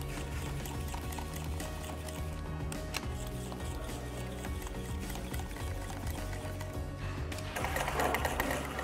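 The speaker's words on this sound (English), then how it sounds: "So what we're doing now is removing all the bolts." Bolts being removed from an Iveco ZF AS-Tronic shift actuator during a gearbox overhaul, heard as a steady close mechanical whir with a low hum and quick ticking clicks that grows louder and rougher near the end.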